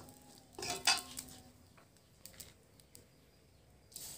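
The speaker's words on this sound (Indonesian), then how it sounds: "Nah, setelah itu kita masukkan mie bihun. Jangan lupa diaduk ya." Rice vermicelli noodles stirred in a pan with a utensil: one brief burst of metallic scraping and clinking near the start, then faint scattered taps and light stirring rustle, no talking.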